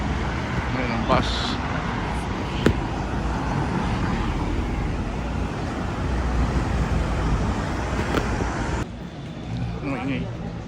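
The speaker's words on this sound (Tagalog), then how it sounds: "Ayan ang bus." A bus passes through busy Seoul street traffic, its broad engine rumble and road roar sustained and fairly close, with people talking nearby throughout.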